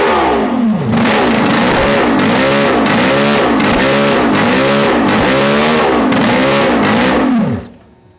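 A two-stroke F1 racing powerboat engine revs loud and close in repeated rising and falling bursts for about seven seconds, then cuts off abruptly, with no speech.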